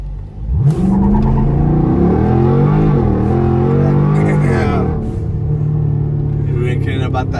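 A Dodge Durango SRT does a burnout, the engine revving hard and loud with a rising then sustained roar and stuttering wheel hop, a voice calling out partway through.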